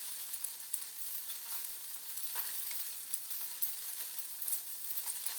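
Chicken saltimbocca cooks in a pan with a faint, steady sizzle, broken by occasional small pops, with no voices.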